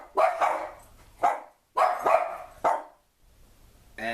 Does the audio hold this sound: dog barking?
yes